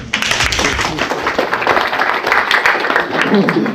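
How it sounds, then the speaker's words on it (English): Audience at a presentation gives a volunteer a round of applause, a dense, steady clapping that fills the room loudly from start to finish. "give him a round of applause"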